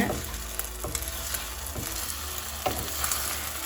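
Spicy corn kalakki sizzles steadily in a pan while a spatula folds it, with a soft scraping stir recurring roughly every second over the constant frying crackle, close and quiet, no talk.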